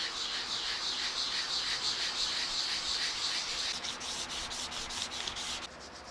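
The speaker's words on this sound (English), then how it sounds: "So let's start sanding." Rhythmic back-and-forth sanding strokes scrape across a wooden guitar body, close and steady, with a brief pause near the end.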